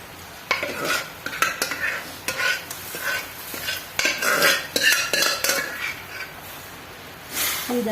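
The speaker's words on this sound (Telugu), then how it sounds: "ఈ విధంగా పప్పు వేసుకొని మంచిగా మిక్స్ చేసుకోవాలి" A spoon stirs cooked toor dal into simmering tamarind and drumstick rasam in a pot, producing repeated close scraping and clinking strokes against the metal over a soft bubbling background, with no talking.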